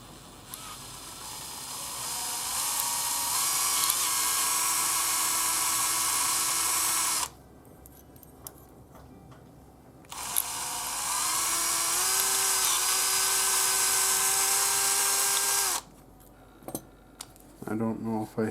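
A small power drill bores holes into a crumbled Hot Wheels car base, whining steadily in two long bursts with a pause between, followed by brief clicks and handling noises.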